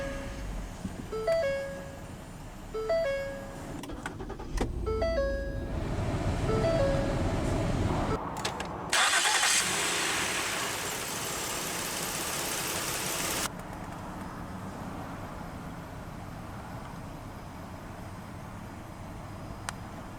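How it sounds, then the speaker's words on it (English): A 2013 Ford Edge Sport AWD starting by push button: a few chimes, a brief cranking burst as the engine catches, then a steady low idle that settles into a quiet hum. "we'll go ahead and start the engine, and along with Smart Key, it does have push-button ignition."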